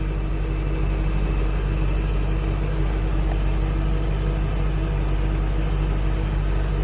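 A red 2006 Ford GT with white stripes idles steadily, its engine a loud, continuous low rumble held close by for the whole stretch, with no talking over it.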